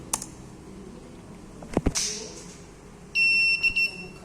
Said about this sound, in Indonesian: Buzzernya bunyi